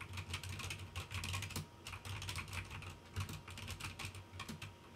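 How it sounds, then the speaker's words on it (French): Typing on an Apex Pro mechanical keyboard with moderately loud switches, rapid irregular clacking keystrokes in bursts, close and fairly quiet, with no talking. "Donc là je vais écrire sur mon clavier"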